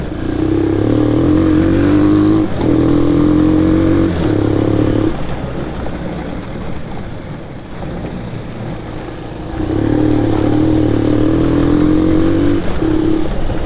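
A Shineray 250 quad bike engine drones loudly and close, rising in steady revving bursts, easing off in the middle, then revving up again.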